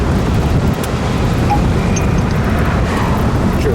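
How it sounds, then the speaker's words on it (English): A 1948 Buick straight-eight engine running during a cruise, a steady low rumble heard from inside the car and mixed with road and wind noise, no talking. "Yeah, straight 8 engine. Dynaflash. Sounds beautiful."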